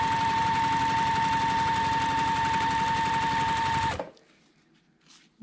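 A sewing machine stitches together the seams of a quilt block, right sides facing, its steady motor whir and rapid needle chatter running loud and close for about four seconds before it stops abruptly into near silence.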